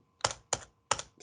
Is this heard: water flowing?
no